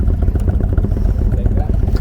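A 2022 Indian Chief Bobber Dark Horse motorcycle engine idles with a deep, steady, loping rumble heard up close from the seat, running continuously at even loudness.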